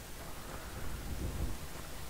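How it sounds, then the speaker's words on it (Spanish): Rain and thunder ambience from the video game Skyrim: a steady wash of rainfall with a low, rolling thunder rumble swelling midway, with no voices over it. "Me encanta el efecto de lluvia."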